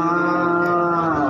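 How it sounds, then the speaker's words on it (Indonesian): A young male breeder calf at a cattle market moos in one loud, sustained, close call. "Nah, ini ada sapi bibitan jantan yang ini guys."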